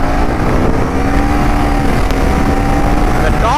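A Husqvarna Svartpilen 401 motorcycle pulls in fourth gear with a steady engine drone and rising whine under heavy wind rush, heard up close while riding.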